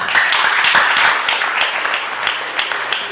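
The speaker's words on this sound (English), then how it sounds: "If you want to clap for me, please do." An audience at a poultry and apple farmers' management meeting claps steadily, a dense, loud patter of many hands filling the room for a few seconds without pause.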